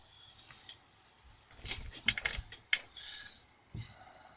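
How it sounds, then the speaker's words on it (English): A deck of Magic: The Gathering cards being shuffled by hand, close-up bursts of crisp riffling and flicking in several short clusters with brief pauses between, no voices. "Let's give it a shuffle."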